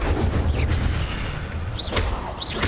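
The Incendio fire spell is cast in the Hogwarts Legacy video game, bursting in deep, rumbling booms with swooshing flares. Two bright whooshing bursts stand out over a continuous low roar of game sound.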